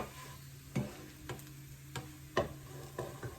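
Bottle gourd muthia fry lightly in a little oil in a pan, giving a faint steady sizzle broken by a few soft clicks of stirring at roughly half-second intervals.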